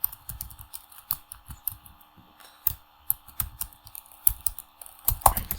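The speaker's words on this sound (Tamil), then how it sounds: "இங்கே வந்து சர்வீஸ்ன்னு டைப் பண்ணி" Rapid, uneven clicking of keys on a computer keyboard, close and fairly quiet, with brief pauses between bursts of typing.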